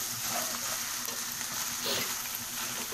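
Leftover cooked rice being fried in a pan for a breakfast dish, giving a steady, close sizzle with scraping stir sounds throughout and no talking.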